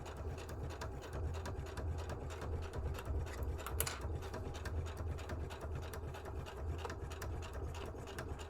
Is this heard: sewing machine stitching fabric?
yes